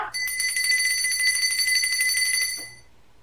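Bells ring steadily for nearly three seconds, bright sustained tones with a quick shimmering pulse, fairly close and clear, then fading out with a short knock at the very end.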